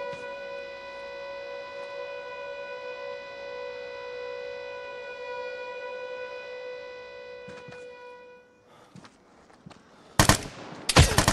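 Gunfire in the video game Vigor, where a sharp loud blast and a burst of rapid shots come near the end, following a long sustained tonal hum and a few brief clicks.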